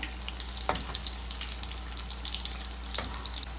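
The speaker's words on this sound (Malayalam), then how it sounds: "ചൂടായ എണ്ണയിലേക്ക് നമുക്കിത് ഓരോന്നായിട്ട് ഇട്ട് പൊരിച്ചെടുക്കാം" Potato snacks fry in hot oil with a steady, close crackling sizzle and a low hum underneath, with no talking.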